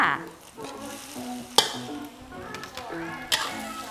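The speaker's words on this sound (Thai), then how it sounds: "ผัดให้ข้าวสวยกับไข่เข้ากันดีนะคะ" Cooked rice and egg are stir-fried together in a hot pan, with a soft sizzle under repeated scraping strokes of a spatula and two sharp clanks, close and moderately quiet.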